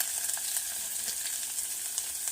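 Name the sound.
ginger roasting in a pan for Kolhapuri misal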